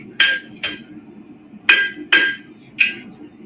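Hammer forging hot Damascus steel, five sharp ringing metallic strikes at uneven intervals, close and clear over a low background hum.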